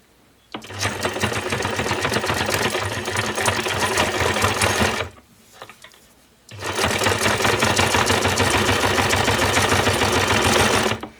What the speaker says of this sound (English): So I'll start stitching this now.